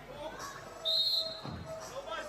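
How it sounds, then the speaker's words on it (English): During a men's 3x3 basketball game at the 2015 European Games in Baku, a referee blows one sharp whistle blast over a murmuring crowd and arena commentary, with a ball bouncing shortly afterward. "And a whistle and a foul down low underneath the basket"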